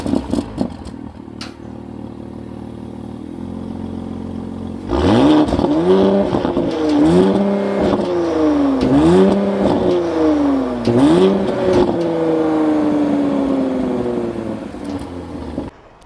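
A 2024 Porsche Cayenne with a dual twin straight-pipe large-bore variable exhaust idles at first, then blips and revs repeatedly in loud, rising and falling bursts before settling into a steady drone, close by with no talk.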